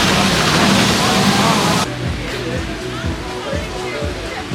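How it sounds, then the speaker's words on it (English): A water coaster at Europa Park hits the water in a loud, close, roaring splash that cuts off abruptly, leaving lower sloshing and rumbling with people talking over it. "A lovely splash we just had on that ride."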